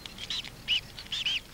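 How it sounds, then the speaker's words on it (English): Coot chicks calling near a lake, a few thin, high chirps in quick bursts, fairly faint over a quiet outdoor background. "Coots are among the most aggressive waterfowl, especially when their young are just hatching."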